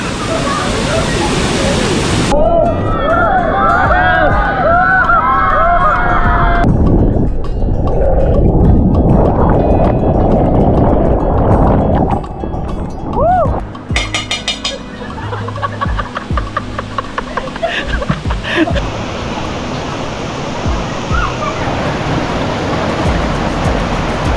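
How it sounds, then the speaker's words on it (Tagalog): Bulawan Falls waterfall roars with a steady, loud broadband rush that stays constant throughout, with voices talking over it at points. "Welcome to Bulawan Falls"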